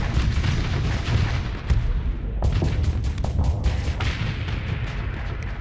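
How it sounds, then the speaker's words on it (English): Heavy cannon fire from a Hellbore cannon in the space combat game Starsector, a dense, continuous barrage of booming shots and impacts with sharp blasts breaking through at several points, loud and steady throughout. "If it's true that the Hellbore cannon is much better at destroying the armor, we should see this thing going down quicker"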